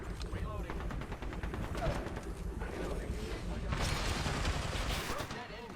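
Rapid bursts of gunfire in an Apex Legends match, close and repeated in dense volleys, with a player talking over the shooting.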